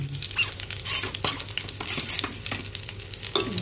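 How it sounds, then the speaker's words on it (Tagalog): Garlic and onion sautéing in a pan before shrimp goes in: a close, continuous crackling sizzle with quick stirring scrapes and light spatula taps throughout. "Igisa muna natin sa mga lamas, bawang at sibuyas bago natin ilagay ang hipon."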